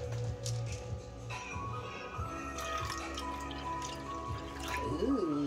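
Water poured from a cup into a cooking mix at home, a faint trickling and dripping under soft background noise, with a brief light splash near the end.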